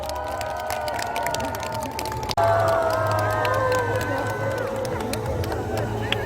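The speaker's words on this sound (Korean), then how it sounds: "박수를 주시면 더 힘이 날 것 같습니다" Large crowd of fans at an outdoor street-naming ceremony clapping and cheering as a singer makes his handprint, sustained noisy applause with shouts and excited voices, swelling louder partway through.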